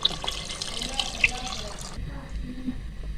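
Roughly two litres of water left from sprouting black chickpeas is poured into a cooking pot for a chickpea soup, a steady splashing pour for about two seconds that then stops, leaving quieter kitchen sounds.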